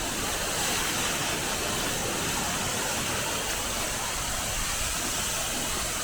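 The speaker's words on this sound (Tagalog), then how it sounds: "The water flows through an aqueduct and then it comes out here and there's the waterfalls." A waterfall pours out of an aqueduct on the Dupinga River in the Philippines, a loud, constant broadband rush of water with no breaks and no voices.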